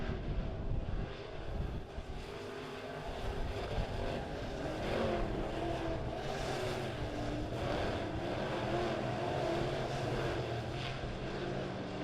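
USRA B-Modified race cars roaring around the quarter-mile dirt track at Springfield Raceway during a heat race, a continuous loud engine drone from several cars passing at once, no talk.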